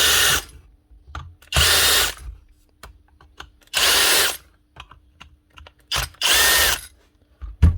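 Cordless power driver backing out T10 Torx screws from the plastic clamshell housing of a Dewalt DCD740 angle drill, in four or five short whirring bursts separated by quiet pauses and faint handling clicks.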